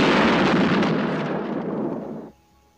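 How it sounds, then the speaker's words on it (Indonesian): A landmine detonating in a war film: a loud, close blast of broadband roar that rumbles and slowly tapers over about two seconds before cutting off abruptly. "Satu prajurit tewas akibat ledakan tersebut"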